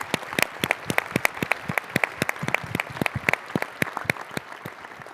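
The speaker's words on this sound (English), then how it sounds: "Give yourself a round of applause," University audience at a Rutgers stakeholder address claps for itself, a steady round of applause with many sharp individual claps standing out near the front, moderately loud and without talk.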